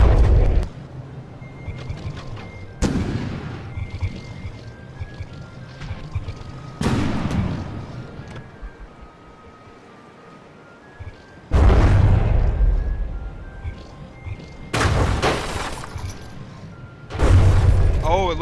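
Ship guns firing in the naval combat game From The Depths: repeated loud booming blasts, five or six heavy shots spaced a few seconds apart with rumbling decay between them, and a voice talking throughout.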